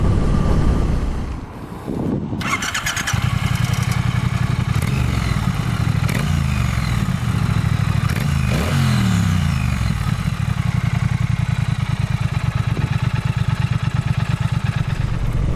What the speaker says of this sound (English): The engine, it's a lot smoother, not just in terms of riding, but in terms of sound than I was expecting